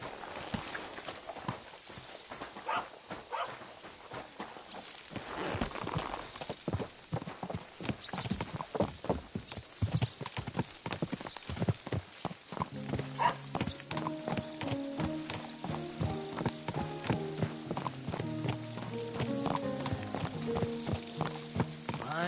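Horse hooves clip-clop in a steady walking rhythm in the video game Kingdom Come: Deliverance II, fairly close, with a brief whinny and soft background music joining in later.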